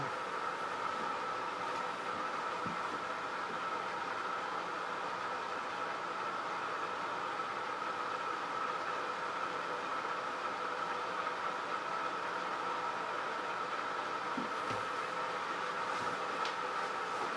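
A rotating mass apparatus spins near 900 RPM, giving a steady, even mechanical whir and hum with faint rattles, unbroken throughout and with no voices.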